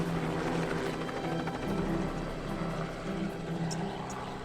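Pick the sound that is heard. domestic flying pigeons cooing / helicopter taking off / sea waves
helicopter taking off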